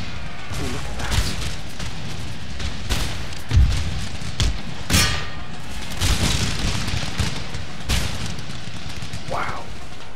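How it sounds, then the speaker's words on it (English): Mortar explosions in the strategy game Empire Total War, set in a battle with the USA, boom repeatedly amid dense crackling gunfire and battle noise, several loud blasts spread across the clip. "those mortars are an absolute menace"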